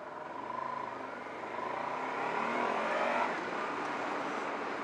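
Honda motorcycle engine droning at steady motorway speed, a loud continuous hum mixed with wind rush that swells slightly midway, with no talking.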